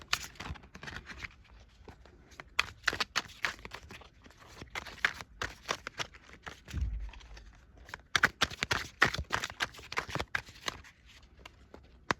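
A tarot card deck being shuffled by hand, giving quiet, irregular bursts of crisp card riffles and slaps over about twelve seconds, with one soft low thump partway through and no talking.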